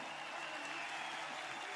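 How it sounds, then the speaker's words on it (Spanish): Applause from a festival audience at an outdoor Chilean huaso festival in Olmué during a concert, a steady dense patter of clapping that stays even and moderately distant for the whole stretch. "Un aplauso grande para los mexicanos acá"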